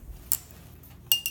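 Glass jars partly filled with water are tapped with pencils, giving two or three quick, faint, bright clinks at different pitches against a quiet background.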